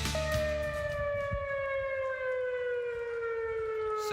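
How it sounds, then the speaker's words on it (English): Civil defense tornado warning sirens sounding across a Madison County neighborhood, a loud sustained wail with steady tones slowly falling in pitch, heard alone. "Tornado sirens sounded in Madison County this afternoon."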